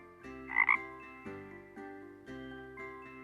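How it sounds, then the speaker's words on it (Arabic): A frog croaking, sounding as a few short, resonant calls over a sustained musical background, with one louder, brighter croak near the start. "ضفدع"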